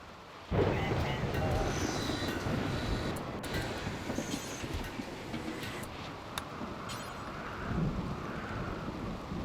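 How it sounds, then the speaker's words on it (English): A rainy thunderstorm in the RimWorld video game: a steady wash of rain with deep rolling rumbles of thunder swelling under it, continuous and moderately quiet throughout. "Rainy thunderstorm."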